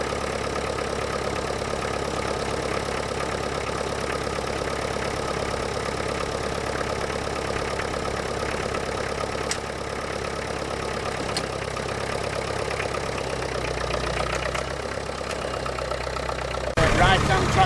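A Ferguson tractor engine idling at a match ploughing event, a steady low chugging rumble throughout, with a person talking over it.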